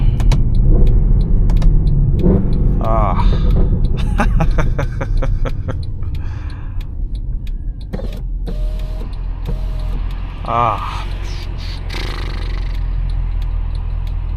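A 2012 Mercedes-Benz C63 AMG (W204) with its 6.2L V8 drives at night, giving a steady, loud engine drone with shifting revs. There are brief clicks and small interior noises but no clear talk.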